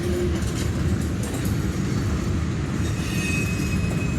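A train comes off the Pinny branch line and crosses a bridge, its wheels and cars rumbling loud and steady throughout, with a brief wheel squeal at the start.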